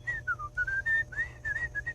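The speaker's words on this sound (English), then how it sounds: "That was a guy whistling." A man whistles a wandering tune in a small forest during wild camping, the clear melodic notes gliding up and down in short phrases over a low background rumble.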